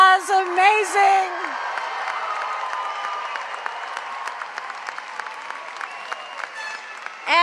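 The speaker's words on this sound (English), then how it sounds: "Let's give our graduates another huge round of applause." A crowd at a secondary school graduation ceremony breaks into sustained applause with scattered whoops and cheers after a brief spoken line, steady and dense, fading slightly toward the end.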